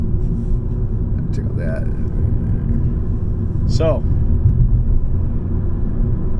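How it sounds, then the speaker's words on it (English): A Tesla car drives along the road, its cabin filled with a steady low road rumble that continues under someone talking. "So I'm driving right now"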